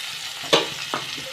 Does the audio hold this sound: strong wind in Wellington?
no